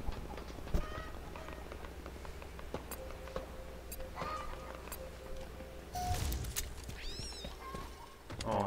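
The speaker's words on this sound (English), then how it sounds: "Oh, kitty cat." A cat meowing during a Halo Infinite match, with several short meows and a rising mewl near the end over game sound effects and background noise.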